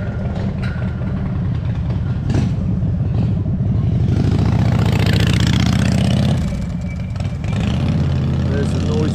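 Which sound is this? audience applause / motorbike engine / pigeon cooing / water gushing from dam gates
motorbike engine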